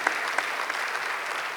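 An audience breaks into steady applause for Ritesh Agrawal. The clapping is dense and sustained, moderately loud and a little distant, with no talking over it.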